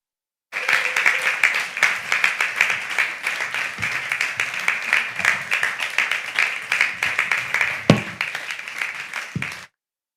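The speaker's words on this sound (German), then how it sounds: "dass ihr einfach den Applaus eures Lebens gebt für Raimundo und Alem" Applause from a church congregation at a summer service for two guest speakers, a dense, steady roar of many hands clapping for about nine seconds before stopping abruptly.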